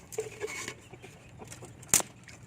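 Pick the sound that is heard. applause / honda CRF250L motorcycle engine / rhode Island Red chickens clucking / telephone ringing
rhode Island Red chickens clucking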